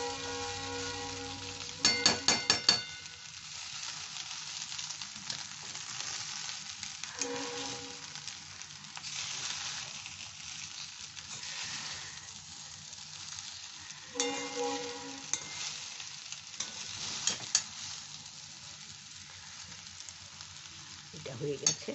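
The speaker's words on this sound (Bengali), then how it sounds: "এইবার এটাকে খুব ভালো করে মিশিয়ে নিচ্ছি।" Ghee rice with a spoonful of sugar being stirred in a frying pan, a steady soft sizzle running throughout with bursts of spoon scraping and clatter against the pan at a few points, no voices.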